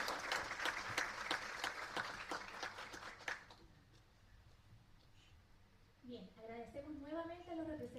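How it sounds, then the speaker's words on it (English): An audience at an international workshop applauds a panel of three speakers, crisp clapping for a few seconds that fades to near silence before a voice begins talking. "a big round of applause"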